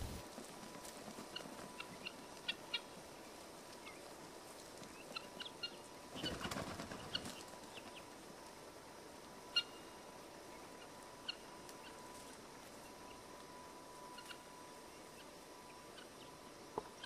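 A flock of guinea fowl moving as herding dogs drive them across open ground, faint scattered wing flutters, footsteps and soft clucks over a quiet outdoor background, with one brief louder rustle midway.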